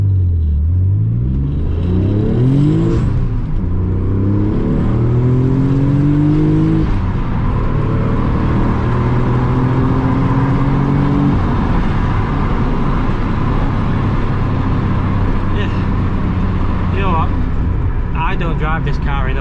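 A Nissan 300ZX Z32 twin-turbo 393 hp engine revs up loudly and climbs through rising pitch sweeps, shifting and pulling hard, with a steady roar continuing afterward.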